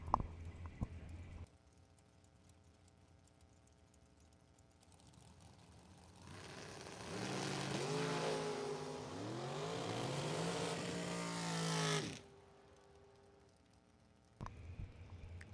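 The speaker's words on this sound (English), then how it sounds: "Next pair, Jason Wilson, the 1999 Crestman with the 555 big block Chevy and Robert Keown. The dragster with the small block here" A pair of bracket-racing drag cars, a 1999 Crestman with a 555 big block Chevy and a small-block dragster, launch together in a loud roaring burst of engine noise that builds for several seconds and then cuts off.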